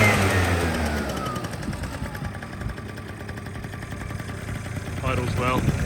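A two-stroke-swapped Suzuki Choinori scooter idles nearby with a steady low putter and some intake noise, while someone talks over it and a brief whine rises near the end.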